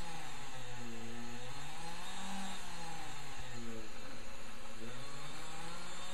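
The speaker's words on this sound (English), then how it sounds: "let's do a spindle test" A Proxxon CNC spindle driven by a VFD runs through a test with a steady, continuous motor whine and hum whose pitch wavers slightly, close and loud throughout.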